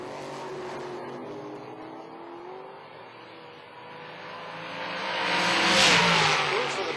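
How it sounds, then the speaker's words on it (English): A black dragster at a drag race revs in a muffled drone that slowly builds and swells toward the end, heard from a distance. "The black dragster getting set to go."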